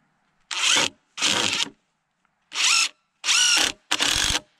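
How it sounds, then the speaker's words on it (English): A power drill drives pocket screws into wood while a raised bed hoop house is built, five loud, close whirring bursts of about half a second each, separated by silent pauses. "we're gonna do some pocket screws going the other direction"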